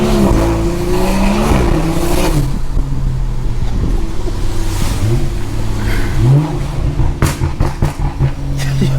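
Straight-piped BMW 340i with a B58 engine, loud continuous exhaust roar with repeated rising revs and sharp blips, close and dominant throughout with no talking.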